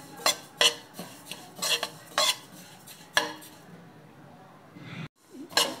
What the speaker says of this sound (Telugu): నువ్వులు ఎరుపు రంగు వచ్చే వరకు వేయించుకోవాలి.